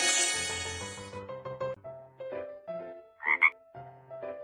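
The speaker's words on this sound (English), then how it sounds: "Frog." A cartoon frog gives a brief, sharp croak near the end, heard over a steady, gentle musical background.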